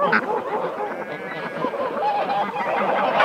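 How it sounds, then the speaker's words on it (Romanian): Tula geese honking in a rural Russian farmyard, with several loud nasal calls overlapping across the whole stretch amid general flock noise and background chatter. "Uite, gânsac de Tula."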